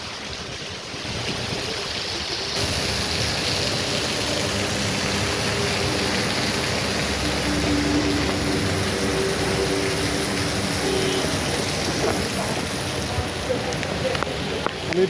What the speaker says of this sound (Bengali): আমাদের কালীহাতিতে এখন অনেক বৃষ্টি হচ্ছে